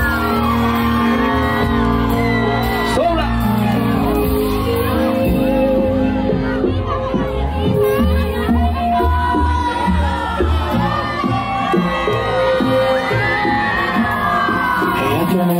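A crowd at an outdoor concert in Plaza Güira de Melena shouts, whoops and cheers loudly and continuously over live music playing throughout, with a voice rising above the noise at times.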